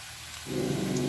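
Sliced hotdog and ham hitting a hot frying pan, a quiet background that bursts into loud, steady sizzling about halfway through.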